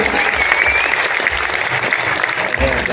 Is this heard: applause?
yes